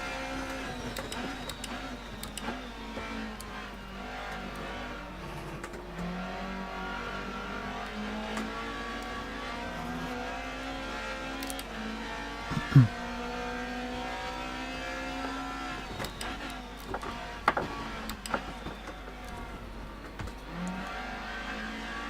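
A BMW touring car engine in the rFactor 2 racing game, from a classic BTCC race at Symmons Plains, holds a steady mid-pitched drone with gradual pitch rises as it accelerates, plus a few sharp clicks, fairly quiet and with no talk.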